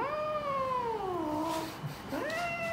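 A house cat gives a few loud, drawn-out meows close by, each call rising and then sliding down in pitch, with a short gap before the last one, in a home where two cats live.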